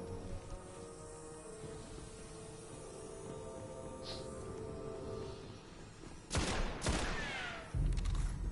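Gunfire in a PS4 shooter, a few sharp bursts of shots cracking out near the end after a stretch of ambient game sound, fairly loud and close.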